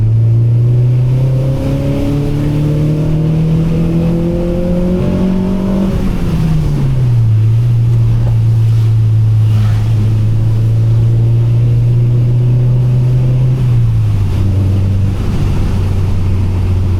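A 2000 Honda Civic SiR engine revs hard into VTEC, pitch rising sharply then dropping back and holding a steady drone before easing again, loud and close throughout on a rainy night drive.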